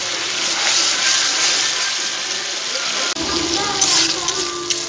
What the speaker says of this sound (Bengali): মশলাটা একটু ভালো করে কষিয়ে নিতে হবে।